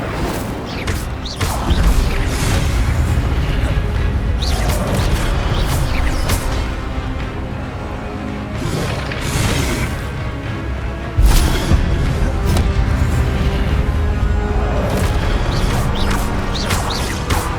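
Incendio fire spells blasting in Hogwarts Legacy, a run of loud whooshing bursts and crashing impacts layered over a dense, continuous game soundscape.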